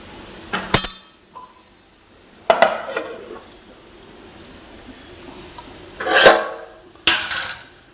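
Several sharp metallic clinks and clatters of a lid handled on a cooking pot, spaced apart with quiet gaps between them.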